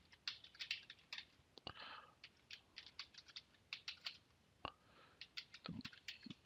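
Keys on a computer keyboard being typed as an email address is entered, a quiet run of irregular clicks with short pauses between bursts, close by with no voices.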